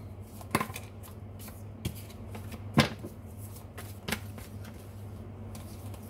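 Tarot cards being shuffled and drawn, a few sharp, crisp card snaps and riffles spaced out over a steady low hum, close and fairly quiet with no talking.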